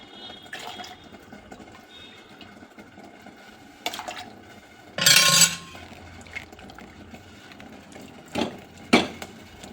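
Water splashing and rinsing a kitchen mixer grinder jar, a loud burst of running water around the middle with a few shorter splashes and clanks elsewhere, close by with no talk.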